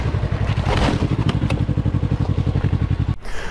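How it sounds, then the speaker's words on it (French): Close, loud 125cc motorcycle engine running with a rapid, even thumping pulse, cutting off abruptly near the end before a brief restart. "La moto démarre."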